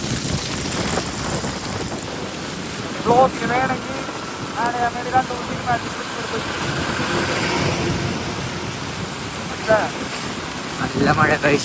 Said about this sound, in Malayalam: നല്ല മഴ ഗൈസ്.